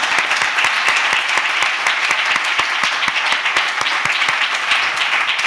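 Audience applause at a talk on international justice, dense steady clapping from a crowd sustained throughout at even loudness, no voices over it.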